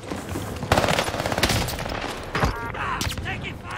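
Grau rifle gunfire in Call of Duty, several rapid bursts of automatic shots with sharp cracks and thumps over a few seconds, close and loud, with voices talking over them.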